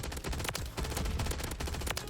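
AMR9 submachine gun with the five-round burst kit firing in Modern Warfare III: rapid clustered bursts of sharp shots, moderately loud, repeating in quick groups.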